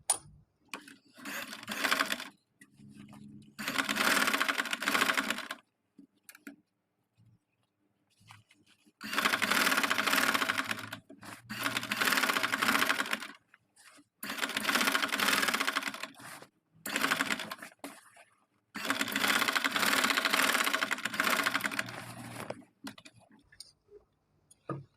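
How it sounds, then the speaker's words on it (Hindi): Sewing machine stitching trouser fabric, running in several long bursts of rapid, steady stitching separated by short pauses and small handling noises, with no talk. "और एक सिलाई हम यहाँ पर भी लगा देंगे इसको"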